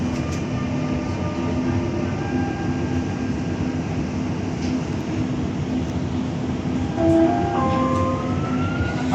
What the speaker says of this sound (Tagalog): Doors closing. Yan na yung train.